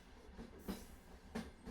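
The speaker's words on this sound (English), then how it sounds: "The sound of the train is like music." A train runs along the rails with a steady low rumble, punctuated by two rhythmic clacks of the wheels passing over rail joints.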